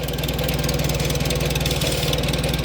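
A 1954 IH McCormick Farmall Super C tractor engine with a one-wire alternator and oil bath air filter idles close by, a steady loud rhythmic chugging with a fast regular knock and no pause.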